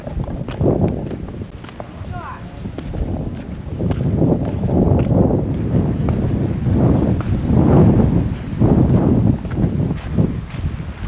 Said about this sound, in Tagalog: Mahangin no?